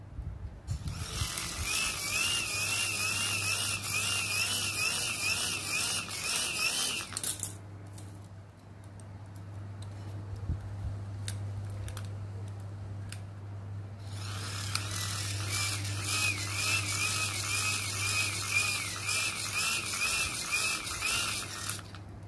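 A homemade hand-cranked generator built to light a lamp and charge a 3-volt battery, whirring in long, loud bursts of mechanical rattling with a steady hum beneath, pausing briefly midway before cranking resumes.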